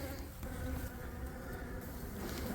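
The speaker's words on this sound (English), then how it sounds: "You can see there's bees at the opening." Honeybees at a hive entrance fitted with a winter feeder board make a dense, continuous buzzing hum, steady and close, with no voices.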